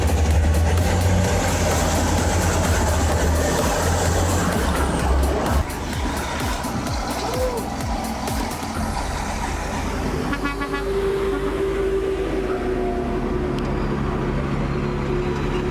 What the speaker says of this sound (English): The large wheel loader with its superior power is pulling out the dump truck stuck deep in the sand.